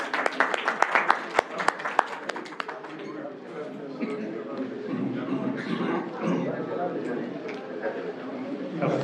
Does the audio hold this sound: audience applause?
yes